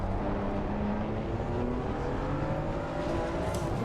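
A BMW M2 CS race car lapping Snetterton hard on worn tyres gives a loud, steady engine roar heard from inside the car, its pitch climbing as it accelerates.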